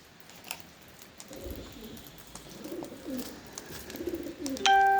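Soft, low coos of a feather-footed wild pigeon repeat close by, murmuring in short phrases against quiet background noise.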